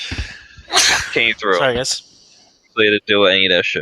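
A single loud sneeze bursts out among men chatting during a gaming podcast, followed by more talking close to the microphone.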